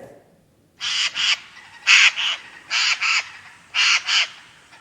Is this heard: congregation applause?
no